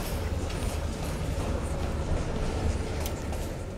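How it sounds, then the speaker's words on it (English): Train running on rails in the video game Call of Duty Black Ops Cold War, a steady low rumble with faint rattling and a few light clanks, heard without talk. "Train's slowing down."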